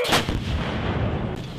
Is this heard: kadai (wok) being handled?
no